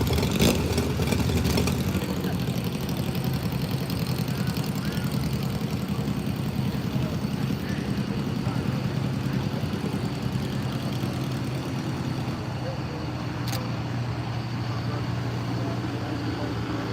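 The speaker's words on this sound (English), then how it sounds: "Tractor's just about finishing up the prep here." A tractor engine drones steadily while preparing a sand drag track at the Silver Lake Sand Dunes for a four-wheeler drag race. The low, constant hum holds at an even level for the whole stretch.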